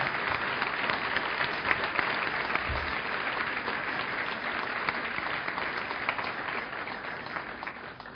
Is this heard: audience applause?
yes